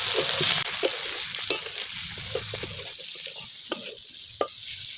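Bitter gourd, potato and fried prawns are stir-fried together in a pan. A soft sizzle runs underneath, broken by scattered clinks and scrapes of the spatula as the mixture is tossed, and the sizzle fades slightly after the first second.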